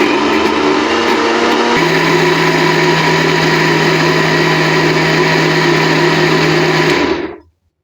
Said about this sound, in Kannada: ಮಿಕ್ಸಿ ಮಾಡೋಣ ಇನ್ನೊಂದ್ಸತಿ